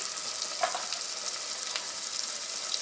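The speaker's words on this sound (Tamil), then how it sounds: "தக்காளியும் வதங்கணும், வெங்காயமும் நல்லா வதங்கணும்." Onions and tomatoes sauté in a pan for a bottle gourd tamarind curry, giving a steady close hiss of frying with a few soft crackles and stirring sounds, with no talking.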